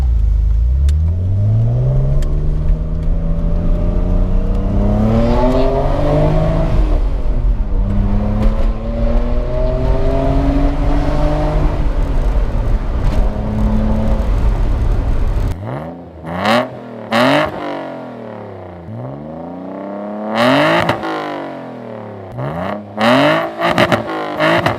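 A Nissan Skyline R34 engine revs up repeatedly, rising and falling in pitch with a deep exhaust rumble, then sharp throttle blips and pops later on.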